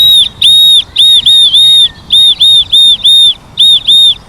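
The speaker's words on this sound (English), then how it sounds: "And that concludes the making of a willow whistle." A homemade willow whistle is blown in a quick series of about eleven short, shrill, bright toots in a loose rhythm. It sounds close and very loud, with no talking.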